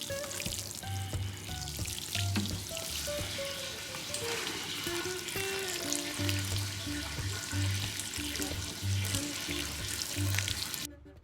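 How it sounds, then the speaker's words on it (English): Water runs steadily from a watering can or tap over seed-starting trays of cold crops such as cauliflower and broccoli, a continuous near splashing and trickling wash with a steady rhythm throughout. "So let me go ahead and water right now."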